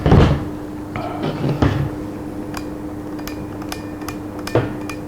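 A SIG SG550 rifle's gas valve is switched, giving a few sharp metallic clicks and knocks close by, spaced irregularly over a quiet background.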